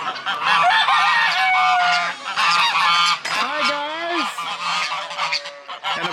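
Canada geese honk loudly and repeatedly close by, several birds calling over one another in a dense, continuous chorus with rising and falling tones.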